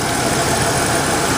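A Lincoln MKVI car engine idles with a steady, even rumble, heard up close and alone for a brief moment.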